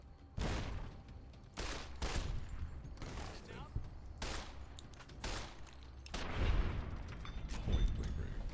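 Pistol fire in Fallout: New Vegas, with a run of sharp, loud shots spaced irregularly about a second apart, several booming with heavy low thump, one blast near the end larger and more explosive.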